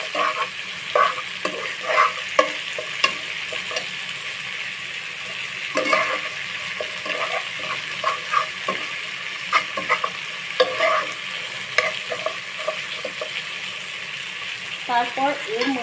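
Spice masala with salt fries in a pan for a fish curry while a spoon stirs and scrapes it in steady strokes, a continuous sizzle running underneath and clinking spoon hits scattered throughout, close and fairly loud.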